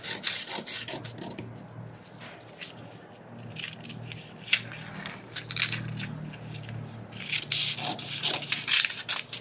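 Scissors cut through a paper sewing pattern for a short vest with a sport collar, giving repeated close, crisp rasping snips and paper rustles in bursts, with some soft handling noise between them.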